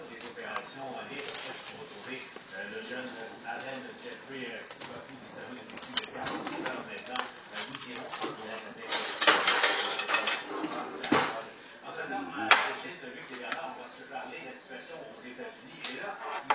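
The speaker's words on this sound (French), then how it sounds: "il faut mélanger l'œuf, la farine, la poudre à pâte et le sel" Egg, flour, baking powder and salt being stirred together in a bowl, with busy clinking and scraping of a utensil against the dish, under a speaking voice.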